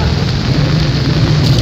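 Heavy rain pours down steadily in Taxila, Pakistan, with water pooling on the ground, a dense, even hiss with a low rumble running throughout and no pauses.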